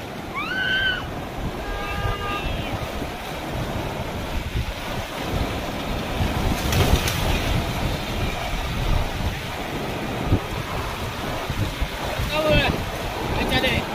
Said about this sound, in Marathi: बघा पूल नदीला पूर आलेला इकडे